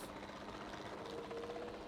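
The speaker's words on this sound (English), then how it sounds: "And now we can jump in the helicopter." A helicopter in the dinosaur park game Jurassic World Evolution 2 gives a faint, steady rotor and engine drone, continuous and unchanging throughout, with no voices.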